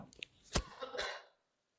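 A man gives a single sharp cough followed by a short rasping breath, close and fairly quiet, alone, then silence.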